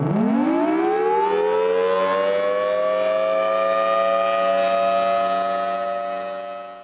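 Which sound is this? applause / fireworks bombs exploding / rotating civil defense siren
rotating civil defense siren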